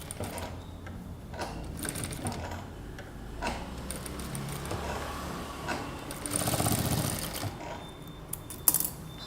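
A sewing machine stitches a princess-cut kurta, its steady mechanical clatter running close and fairly loud through the whole span, with brief pauses and a louder burst of running near the end.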